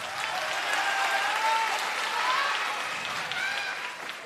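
A crowd applauds and cheers at an All Japan Pro Wrestling arena ahead of a debut singles match, sustained clapping with whistles and shouts rising over it throughout.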